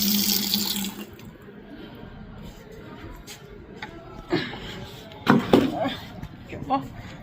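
Water pours into a container to be used for mopping the floor at home, a hissing rush for about a second that fades out. A person then talks over faint background noise, with a few clunks and knocks.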